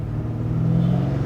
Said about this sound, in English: This is a stock exhaust, and the sounds of this car are just chef's kiss.